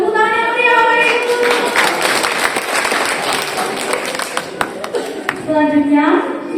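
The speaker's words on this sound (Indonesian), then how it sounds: "Tepuk tangan yang meriah Bapak Ibu" An audience at a Javanese traditional wedding ceremony breaks into loud, sustained applause, dense clapping filling most of the moment, with a voice speaking over it at the start and end.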